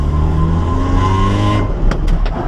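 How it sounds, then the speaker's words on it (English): A Toyota AE86 drift car drives close by, its loud engine holding a steady harmonic drone before easing off, followed by a few short sharp clicks. "So far the car is super loud."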